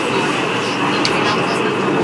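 Mt. Pilatus cogwheel train climbing a steep mountain track, a steady loud rumbling and whirring drone heard close from inside the carriage.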